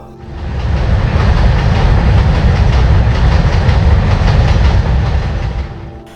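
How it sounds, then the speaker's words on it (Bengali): A train rumbles past without stopping near Nimdih station in Jharkhand, clattering wheels, the heavy roar swelling quickly, holding steady for several seconds, then easing off as it moves away. "আর মাঝে মাঝে না থেমে হুইসেল মেরে ট্রেনের চলে যাওয়া।"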